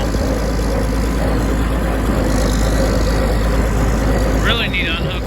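Tractor engine idling on a farm before a bushhog is hooked up, a loud steady low rumble close by that stays constant throughout, with a brief higher mechanical whine near the end.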